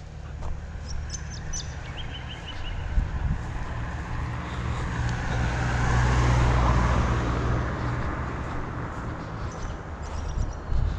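Cars pass along a road with no footpaths, one vehicle swelling up close and fading away over steady roadway noise, with wind and chirping birds in the background.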